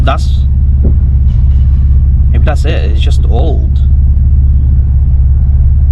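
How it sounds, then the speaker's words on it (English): Porsche Boxster 986 flat-six engine with a loud aftermarket exhaust idling: a steady, deep, close rumble runs throughout while someone talks over it. "Can you hear the engine?"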